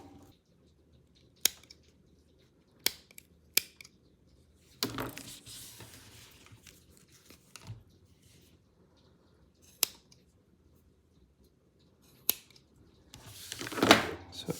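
Multi-tool scissors snip through paracord in several sharp, separate cuts spaced a second or two apart, close up, with rustling and handling noise between cuts.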